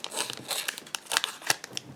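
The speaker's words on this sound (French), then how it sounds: "donne-moi les ciseaux, s'il te plaît" Scissors snip open a Transformers Dark of the Moon booster pack, giving a quick run of crisp, close cuts mixed with crinkling wrapper and sharp snaps.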